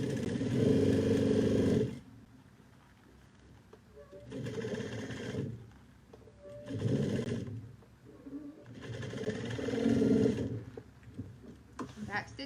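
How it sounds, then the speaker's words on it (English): An industrial sewing machine stitches and back stitches a bucket bag seam in three loud bursts of rapid mechanical chatter, with quieter gaps between them where someone talks. "Back stitching so that it doesn't come undone."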